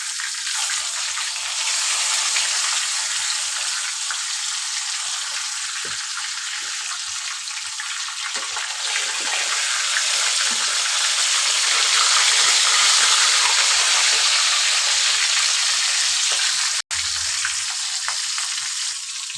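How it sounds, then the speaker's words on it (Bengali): A whole chicken fries in a deep pool of hot oil, giving a loud, steady, dense hiss that swells slightly midway and runs unbroken and close throughout, no voices. "এবার এই আস্ত চিকেন আমি তেলের ভিতরে দিয়ে দিয়ে সুন্দর করে ভেজে নিব উল্টে পাল্টে"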